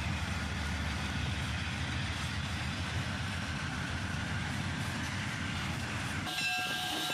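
Union Pacific freight train with a mid-train AC4460 CW distributed power unit rolling steadily past, a loud continuous rumble of engine and wheels that holds throughout and thins out near the end.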